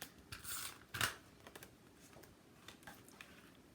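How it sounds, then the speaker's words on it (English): Scissors snip through a paper mat for a handmade stamped card, a few crisp close cuts with paper rustle between them, no talking. "So I'm going to cut a mat for it."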